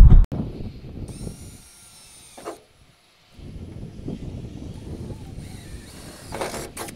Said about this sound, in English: I've got my pilot hole drilled